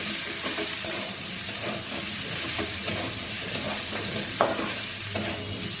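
Green chilli paste sautés with shrimp and kohlrabi in hot oil, a continuous loud sizzle broken by repeated scraping strokes of a spatula stirring the pan, with no voices.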